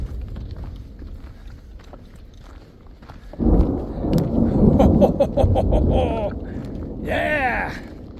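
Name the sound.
distant thunder after lightning in the Uinta mountains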